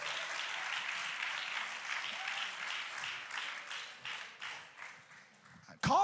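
Scattered, tentative clapping from a church audience during a bilingual holiness study, fairly faint and thinning out toward the end, with a sudden loud clatter closing it.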